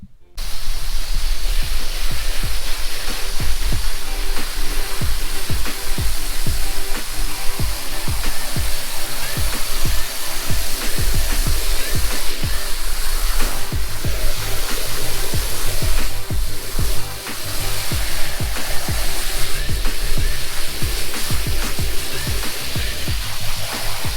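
Water spraying steadily over car carpets being rinsed during a deep cleaning, a loud, continuous hissing wash close by with faint low thumps underneath.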